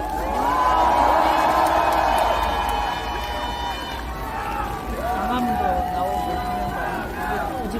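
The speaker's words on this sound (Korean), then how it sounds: "여러분, 큰 박수 부탁드립니다" A crowd at a political rally in Yeouido plaza, Seoul, erupting in cheering and shouting, with raised voices and whoops over a dense roar that rises, dips and swells again.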